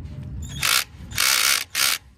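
INGCO 12V cordless drill with its torque clutch slipping on an overtightened screw, three loud bursts of rapid ratcheting clicks, close up, with no voices.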